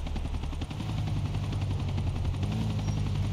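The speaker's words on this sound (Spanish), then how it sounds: "Deja que el helicóptero aterrice y acércate para hacerte con él." A helicopter comes in to land in Grand Theft Auto 4, its rotor chopping in a fast steady pulse with a heavy engine drone, loud and close throughout.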